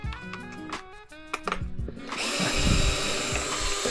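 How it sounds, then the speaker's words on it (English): A power driver removes a 2mm hex screw from the servo mount of a Redcat Vigilante RC car, with close clicks and tool noise first, then a loud steady whirring spin. "So I'm gonna remove this screw"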